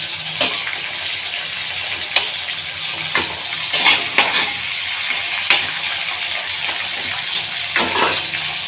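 Steady hiss of prawns frying in hot oil, with occasional sharper crackles and pops breaking through the continuous sizzle.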